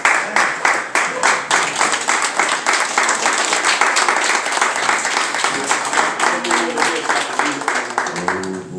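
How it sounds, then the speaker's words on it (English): A standing audience at a clergy council holiday brunch claps to welcome a police commissioner, a steady, loud wash of many hands with rhythmic bursts, then a voice begins speaking near the end. "Let's receive him with a hand clap."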